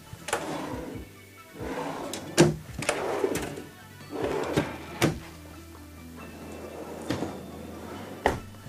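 The pull-out counter and drawers of a 2022 Tiffin Allegro Red 37 PA motorhome give a close series of sliding rumbles, thuds and clunks, spaced irregularly as the parts are pulled and pushed.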